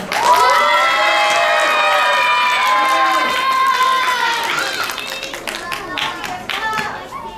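A school audience at a third-grade career fair applauds and cheers to welcome a student speaker, the clapping and shouting dense and loud at first, then thinning and tapering off toward the end.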